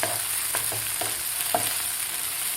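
Tomato and onion frying in a pan, a constant loud sizzle with scattered scrapes of stirring throughout.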